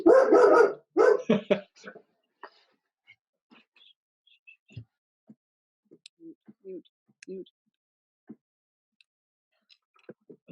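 A dog barks several times in a loud, close burst, then only scattered faint noises follow in a quiet room.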